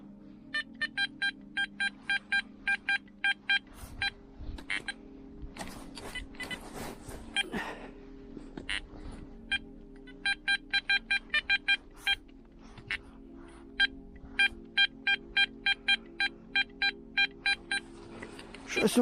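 A Garrett Ace Apex metal detector sends out repeated sharp electronic beeps in rhythmic bursts, heard outdoors in muddy, foggy ground. The beeps run through most of the clip under low background noise and faint talk.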